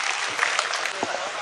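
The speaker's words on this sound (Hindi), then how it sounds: "तालियों से इस्तक़बाल करें उनका।" A mushaira audience in Gunnaur claps steadily for the poet Nawazish Khan from Shamli, a dense continuous wash of applause filling the whole moment.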